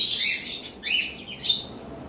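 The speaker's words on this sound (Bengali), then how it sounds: "এখানে দেখতে পাচ্ছেন যা আছে সব ডাবল রেড ফ্যাক্টর পাইনাপেল কুনুর" Double red factor pineapple conures at a bird market give three short, bright chirps spaced about half a second apart, close and clear over a quiet background.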